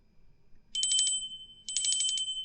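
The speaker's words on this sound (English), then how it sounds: "I'm going to ring the bell again for healing and the angels to hear healing." A small handbell rung for healing sounds twice, each a bright, rapidly rattling ring that lingers briefly, close and clear over a quiet background.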